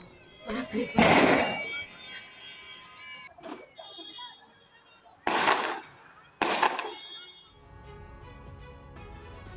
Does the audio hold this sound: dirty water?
no